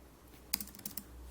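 Keys clatter on a computer keyboard while entering mathematical notation in MS Word: a short, quiet burst of several crisp clicks in an irregular rhythm over faint room hiss, with no talking.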